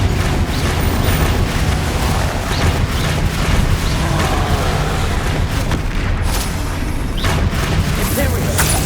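A Confringo blasting spell detonates in Hogwarts Legacy. A dense, loud rumble of booms and crashing debris fills the whole stretch and barely lets up.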